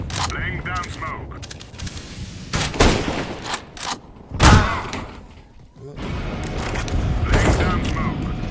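In Counter-Strike: Global Offensive a grenade is thrown and bursts, a loud, booming explosion standing out among close gunfire bursts and clattering game mechanics.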